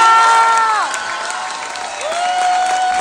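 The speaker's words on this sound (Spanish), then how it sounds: "sí me gustaría que les regalaran un fuerte aplauso porque el trabajo de ellos ha sido maravilloso" Warm applause and light cheering from a school audience honouring students after a theatre premiere, a loud steady clapping crowd that dips briefly mid-way then swells again.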